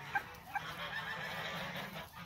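Turkeys in a newly built coop give a few short honking gobbles early on, fairly faint over a steady background hum and rustle.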